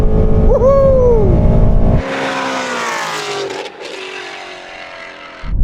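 Shelby GT350 and Porsche 911 launch in a drag race, one engine revving and rising sharply before shifting, then a loud roaring pull with gear changes and rushing noise, close by.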